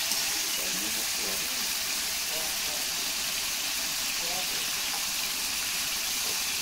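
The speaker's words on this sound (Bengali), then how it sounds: "শুধু লবণ দিয়ে মাংসটা আমি ভেজে নেব। ভালো করে ভেজেছে, আমি মাংসগুলো ভেজে নিচ্ছি।" Chicken pieces seasoned only with salt fry in a pan for a home-style chicken dish, giving a steady, even hiss with faint scraping movements, fairly close and constant throughout.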